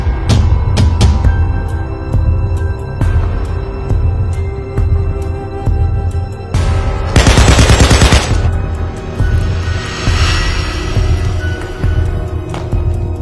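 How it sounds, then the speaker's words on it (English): Gunfire in a dramatized Nollywood-style series scene, with single shots and a dense burst of rapid machine-gun fire midway over a loud, continuous music bed, with no talk. "Forget about the gunshot."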